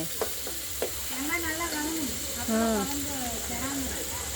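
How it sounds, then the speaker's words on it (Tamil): Onions and green chillies sautéing in a pan while cooking at a roadside spot, a steady close sizzle with occasional stirring clicks beneath continuous speech. "வெங்காயம் பச்சை மிளகா போட்டு நல்லா வதக்கிடணும் முதல்ல"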